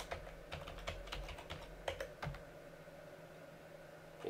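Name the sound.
typing on computer keyboard logging into Ubuntu server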